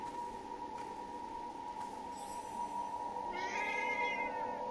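Cat meowing inside the video game Forspoken, a series of drawn-out meows standing out clearly over a steady ambient game hum and soft background tones.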